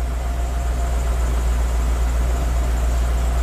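A Nissan VK45DE V8 in a D40 Navara idles at about 870 RPM, producing a steady, low, unbroken rumble close up with no talking.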